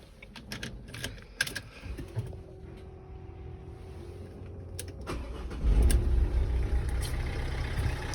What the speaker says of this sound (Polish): zapalimy sobie to auto